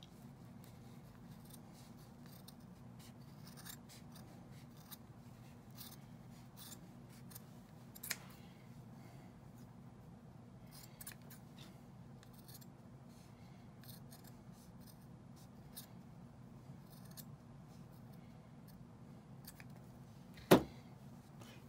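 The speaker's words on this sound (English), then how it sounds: "So now we're gonna take our scissors." Scissors trim leftover thread from a finished machine embroidery sew-out, producing scattered faint snips and clicks over a quiet low machine hum, with one sharper clack near the end.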